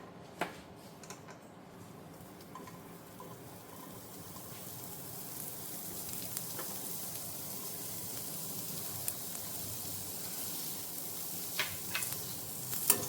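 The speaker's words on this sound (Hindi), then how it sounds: "इसी कढ़ाई में हम लोग खोए को भी भून लेंगे।" Khoya roasting in a kadhai for gujiya gives a soft, steady sizzle with faint scraping stir clicks, quiet and continuous throughout, with no talking.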